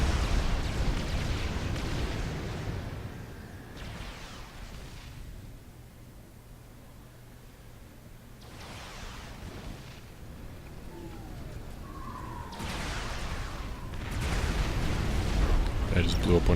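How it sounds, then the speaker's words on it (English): Deep booming artillery blasts from the real-time strategy game Supreme Commander, one heavy impact at the start and another rumbling burst near the end, with quieter battle rumble between and someone talking over it. "I just blew up one of his mass storage tanks with that artillery shot."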